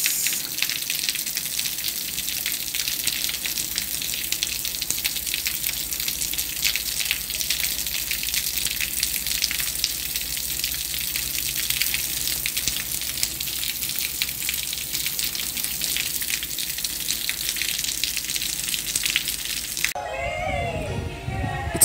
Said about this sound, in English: and the rain has started again.